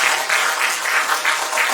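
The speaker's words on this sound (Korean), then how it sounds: "박수하고 주세요" An audience at a science talk about stars and the universe claps loudly and close, a brief dense burst of many hands with no speech over it.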